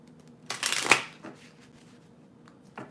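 Oracle cards are shuffled in quick, soft riffling bursts, one dense flurry followed by a few lighter flicks, close and quiet with no talking.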